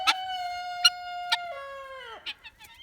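Guinea fowl call with a harsh, tonal cry and sharp repeated accents, close and loud, the final note bending downward before a few scratchy clucks.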